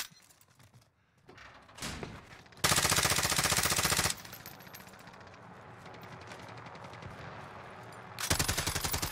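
Automatic gunfire in Warzone, a Call of Duty battle royale game, comes in several bursts: short scattered shots first, then a loud sustained burst, a stretch of quieter rapid fire, and another loud burst at the end, with no voices.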